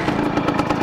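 1992 Piaggio Vespa PX125 scooter engine idling smoothly, a steady close putter with a fast even pulse, fairly loud and alone, no voices.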